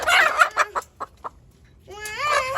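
A desi hen clucks in a few short, close bursts early on, then gives a longer rising, drawn-out call near the end, with a quiet pause between.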